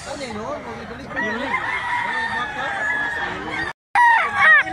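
A rooster crows repeatedly at close range, its calls standing out over a busy farmyard background with other fowl clucking and people talking nearby.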